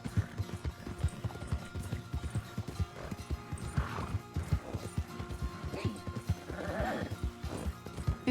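Horse hooves clip-clop in the RedM western roleplay game, a steady rhythmic patter with an occasional whinny, running under ongoing conversation.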